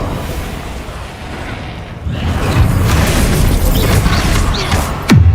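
Confringo blast spells explode in the Hogwarts Legacy video game, a loud booming burst that jumps up suddenly and rumbles on in a dense roar, with a sharp crack near the end.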